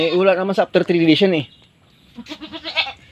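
A baby goat bleats in a few short, quavering cries, near and loud, while a person talks over and between the calls.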